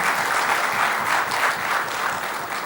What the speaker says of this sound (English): Could we have a warm round of applause as we welcome all of them here?